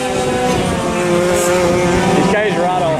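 Vintage racing karts, including American Sidewinders and rear-engine karts, drone loudly and continuously past on track at a vintage karting race in Quincy, with engine pitch rising and falling.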